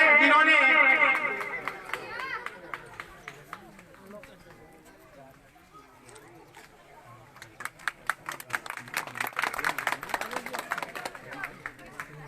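Audience applause for honoured children at a Saini community talent award ceremony in Khirni: someone speaks at first, then dense, sustained clapping swells from a crowd with a sharp, crackling texture.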